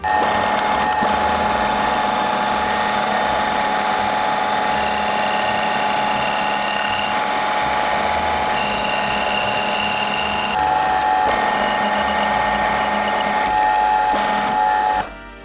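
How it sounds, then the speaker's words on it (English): A lathe machines the outer diameter of a DIY billet minibike flywheel, a loud, continuous whine with steady tonal ringing that holds for the whole stretch and cuts off abruptly at the end. "Okay, I set things up for machining the outer diameter here."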